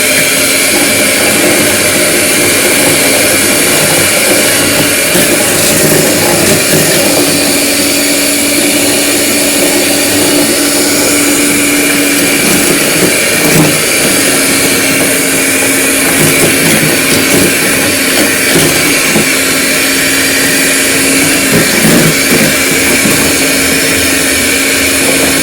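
Electric whisk beating cake batter for a dragon fruit cake, a loud continuous motorized whir held steady and close for the whole stretch, with no talk.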